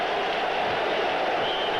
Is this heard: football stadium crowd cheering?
yes